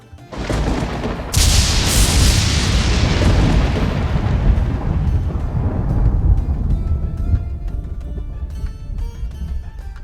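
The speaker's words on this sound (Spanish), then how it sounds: "un terrible estruendo sacudió la aeronave" A loud, thunderous crash sound effect strikes an airplane, a sudden booming burst that rumbles on and slowly fades over several seconds, heavy and close with no voices.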